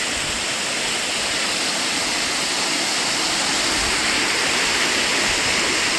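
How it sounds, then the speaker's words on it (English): Steady, loud rush of a waterfall under a bridge in an Alberta canyon, filling the whole clip, a constant broadband roar with no voices. "Waterfall under the bridge."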